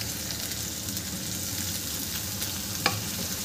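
Sprouted fenugreek seeds stir-fried in a pan with cooked tomatoes give off a steady, fairly soft sizzle, with one brief sharp scrape of the spoon near the end.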